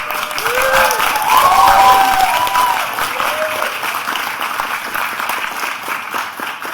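Graduates applauding family and friends at a Master of Science in Entrepreneurship graduation ceremony, a large crowd clapping loudly and steadily throughout, with a few faint voices and whoops mixed in.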